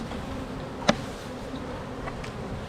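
Honey bees buzz on hive frames that lack wax, a soft steady hum close by, broken by one sharp click and a few faint taps.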